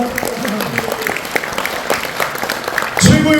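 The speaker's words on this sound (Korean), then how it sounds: "큰 박수 주십시오." Audience applause after a soprano and tenor opera troupe's final performance at an anniversary event, a dense steady patter of many hands clapping close by, with a voice cutting in near the end.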